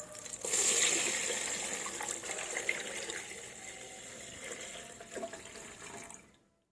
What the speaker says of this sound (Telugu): ఇందులో మనం వాటర్ పోసుకుందాం గైస్.